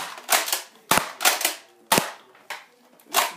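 A painted Nerf blaster fires foam darts in a series of sharp, loud snapping pops, about six shots spaced irregularly and close by, with no talk.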